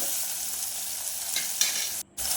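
Two large onions, thinly sliced lengthwise, sautéing in a pan for a cauliflower, potato and green pea curry, with a steady close sizzle and the scrape of stirring that briefly cuts out near the end.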